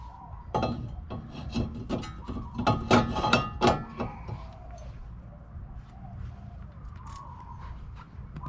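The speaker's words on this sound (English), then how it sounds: "So I'm going to be putting on the rotor." A rotor is fitted onto a hub, giving a cluster of sharp metallic clinks and knocks that peak in the middle, followed by quieter scraping and faint rubbing against a low background hum.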